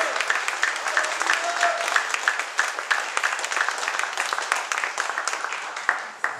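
A seminar congregation applauds in praise of the Father, Son and Holy Spirit, brisk crowded clapping with crisp individual claps, steady then tapering at the end, moderately close with faint voices beneath.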